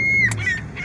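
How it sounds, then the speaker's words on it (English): Seagulls in Reno, Nevada give two loud, close, harsh honking calls in quick succession over a low background rumble. "There's seagulls in Reno, Nevada."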